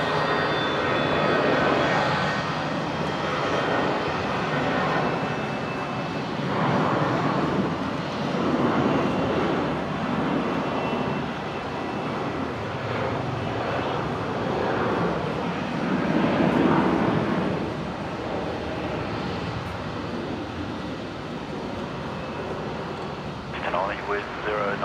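Jetstar 800 bound for Adelaide taking off from runway 19 left at Brisbane at sunset, its jet engine rumble rising and falling at a moderate distance beneath someone talking over it.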